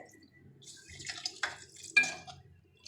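Water is poured into a pot of chicken for chicken pulao, giving a brief, quiet splash with a few light clinks from the pot.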